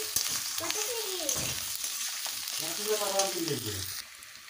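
Crushed garlic and green chilies sizzle in a pan of oil for a spicy kochur loti dish, a bright, busy hiss with a voice sounding faintly in the background.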